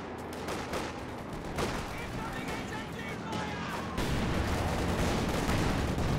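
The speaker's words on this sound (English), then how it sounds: "Multiple AT gun shots there in the Panzer IV" Anti-tank gun fire hitting a Panzer IV in Company of Heroes 2, several heavy booming shots over a constant rumble of battle, with a commentator talking throughout.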